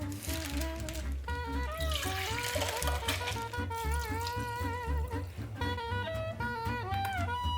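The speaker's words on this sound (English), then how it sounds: "Now pour the pasta in your cooking pot and add some olive oil and water" Water poured into a cooking pot of pasta with olive oil at a backpacking cooksite, a steady liquid splashing and trickling that runs continuously throughout over background music.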